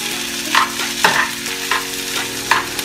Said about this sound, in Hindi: मिक्स करें दोबारा इसको।